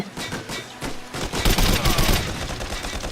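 Dense, close gunfire from the video game Code of Honor, a sustained fusillade of rapid overlapping shots that stays loud throughout.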